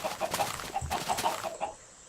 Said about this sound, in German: Jetzt fangen sie an, die Hühner.